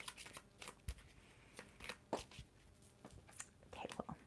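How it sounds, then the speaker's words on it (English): A deck of playing cards is shuffled in quiet bursts of soft riffling, flicking and slapping, close by and faint with brief pauses between the strokes. "We're just doing a little shuffle."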